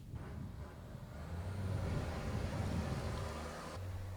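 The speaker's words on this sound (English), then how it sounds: "Loud cars going by." Cars pass outdoors with a low, rumbling engine roar that swells and fades over a few seconds, heavy in the bass, with no voices over it.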